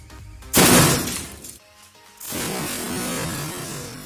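A potato fired from a homemade potato cannon smashes into arranged glasses with a loud shattering crash, followed by a brief lull and then a sustained rattle and clatter of breaking, tinkling glass.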